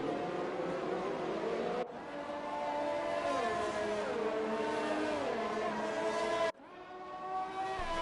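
Formula 1 cars racing in an esports game at the Belgian Grand Prix scream past in close succession, engines whining as they rise and fall through gear changes, with abrupt cuts between passes.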